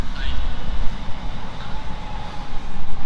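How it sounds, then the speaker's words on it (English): A train passes at night near Cosham as a steady, broad rumble that holds at an even loudness for about three seconds, with faint higher tones drifting above it. "That's a train going by yet again."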